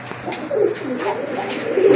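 Pigeons in a mixed collection of breeds cooing in low, rolling throaty calls that overlap and swell, fairly close and clear, with no voices.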